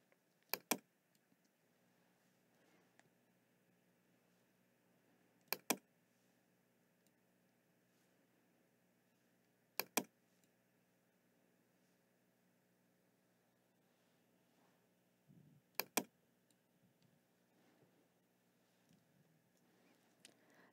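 A few sharp key clicks in small clusters, spaced several seconds apart, over a quiet steady hum.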